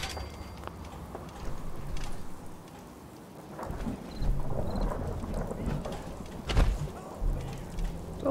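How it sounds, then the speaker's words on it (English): Rain and thunder in Fallout 4: steady rainfall patters across surfaces while low thunder rumbles roll in and out, with a sharper crack near the end, heard moderately and without speech. "I really dislike it when it rains"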